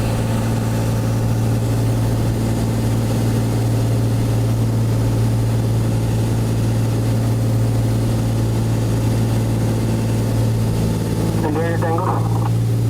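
A light aircraft engine drones steadily and loudly throughout its landing approach, a constant low hum inside the cabin, with a brief warbling voice or radio sound near the end.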